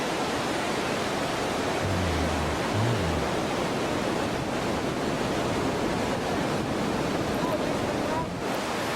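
Iguazu Falls thundering at the Devil's Throat on the Argentine side, a massive, unbroken roar of falling water heard close and loud, steady for the whole stretch with no distinct voices.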